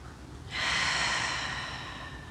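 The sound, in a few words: deep breath during a yoga stretch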